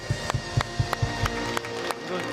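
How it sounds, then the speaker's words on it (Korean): A church congregation at a Sunday worship service claps in a steady, even rhythm, crisp repeated claps over sustained organ-like music that carries on after the clapping fades. "주님께 영광의 박수 올려드리겠습니다."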